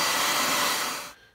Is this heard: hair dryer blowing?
yes